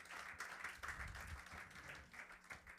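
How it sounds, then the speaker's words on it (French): A church congregation bursts into applause, a faint but sustained wash of many hands clapping together for a few seconds. "Let's clap for the word of God."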